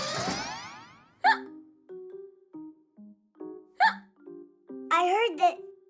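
Cartoon hiccups from an animated children's show: a handful of sharp, springy hiccup sounds spaced out between short voiced squeaks and tones, fairly close and clean.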